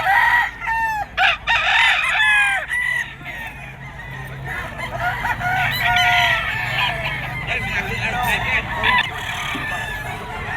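A three-year-old yellow-legged game rooster crows several times close by amid other clucking, crowing fowl at a crowded bird market, with a background murmur of voices throughout.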